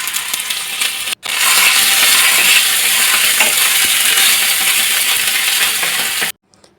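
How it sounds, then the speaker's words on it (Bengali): Bay leaves, dried red chillies, whole cumin and ginger paste crackle and sizzle in hot oil for Bengali dudh shukto, a steady loud fry with light stirring scrapes, after a short pause. "ওই তেলের মধ্যে দেব 2টো তেজপাতা, 2টো শুকনো লঙ্কা, গোটা জিরে 1 চামচ আর 1 চামচ আদা বাটা।"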